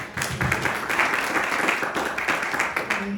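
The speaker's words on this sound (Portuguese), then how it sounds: "Aplauda o Senhor" A church congregation applauding during worship, a continuous wash of clapping over a few seconds with faint voices mixed in beneath it.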